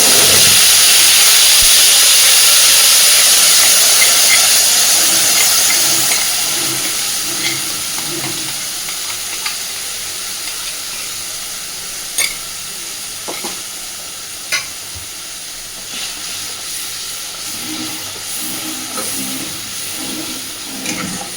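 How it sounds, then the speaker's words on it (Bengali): A ground paste of onion, ginger, garlic, tomato and green chili hits hot oil with a loud, close sizzle. The sizzle gradually settles into a softer, steady hiss, with occasional light clinks of a utensil. "ওই তেলের মধ্যে এবার আমি দিয়ে দিচ্ছি পেঁয়াজ, আদা, রসুন, টমেটো আর কাঁচা লঙ্কা একসাথে করে বেটে নিয়েছি সেই পেস্টটা"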